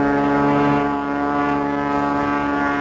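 A propeller airplane flying in Alaska, its engine drone loud and steady throughout with a strong harmonic hum, heard alone without voices.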